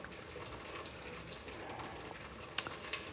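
Fuel draining and leaking from the tank of a 1970 Mercedes-Benz 280SE, a steady trickling, gushing liquid flow heard close up, with a couple of small clinks near the end.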